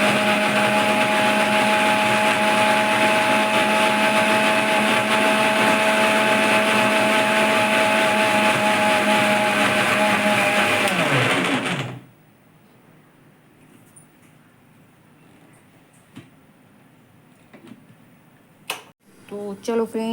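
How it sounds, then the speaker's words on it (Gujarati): A mixer grinder crushes mango cubes with a loud, steady whirring roar for about twelve seconds, then cuts off abruptly, leaving quiet room noise and a few faint clicks and clatters. "હવે આને મેં મિક્સરમાં ક્રશ કરી દઈશ."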